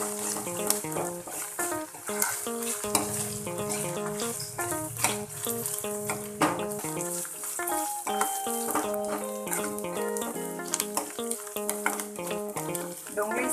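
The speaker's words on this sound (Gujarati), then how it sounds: "કાંદાને આપણે 2 મિનિટ માટે સાંતળી લેવાના છે." Chopped onions sauté in a pan with paste for pizza pockets, giving a steady close sizzle and stirring scrapes under continuous background music, with no talk.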